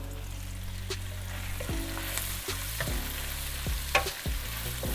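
Onions and short rib caramelizing in a pan send up a constant sizzle, with repeated utensil scrapes and taps against the pan throughout and no talking.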